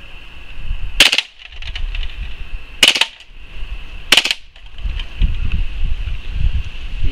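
Full-auto bursts from a WE Glock 18 gen3 gas blowback airsoft pistol, three sharp rapid rattling volleys spaced about a second or more apart over a steady background hiss.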